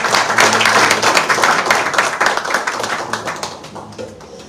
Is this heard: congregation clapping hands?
yes